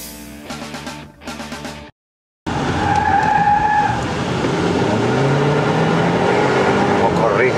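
A 2015 Mercedes-Benz C-Class skids at a launch driving demonstration in Colombia, its tires letting out loud, sustained squeals with wavering pitch after a brief burst of other sound and a short silence.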